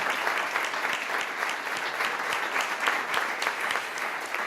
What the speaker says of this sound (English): Please, a round of applause for all of them, the 6 of them.